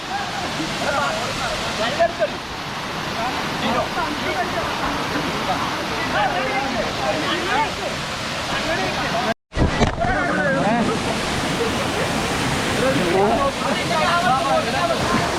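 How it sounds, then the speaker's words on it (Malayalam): A waterfall at Josegiri Hills in Kerala roars with a broad, constant wash of falling water, close and loud, with voices and splashing from people playing nearby mixed in and a brief dropout partway through. "നമ്മളിപ്പോൾ വാട്ടർഫോളിലേക്ക് എത്തിയിരിക്കുന്നതാണ്"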